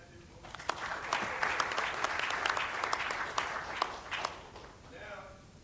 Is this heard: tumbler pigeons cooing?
no